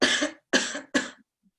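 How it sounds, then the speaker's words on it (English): A person coughs out forcefully three times in a breathing exercise, each cough a loud, close burst followed by a short pause, with a faint breath at the end. "And then breathe in and cough out."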